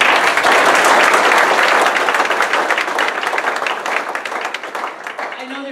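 Loud crowd applause at a St. Charles County community meeting in Weldon Springs about Manhattan Project contamination, dense clapping that gradually thins and fades, with a voice starting at the end.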